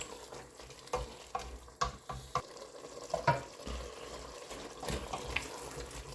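Pork goulash frying in a pan with steady crackling and sizzling, broken by a few louder clinks and stirring scrapes, close by and with no talking.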